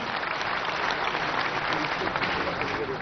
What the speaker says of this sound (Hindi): एक बार जोरदार तालियों से स्वागत और अभिनंदन करें